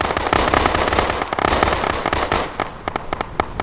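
Rapid volleys of gunfire from a firing squad, a dense loud burst of overlapping shots that thins into separate cracks toward the end, with no talk over it.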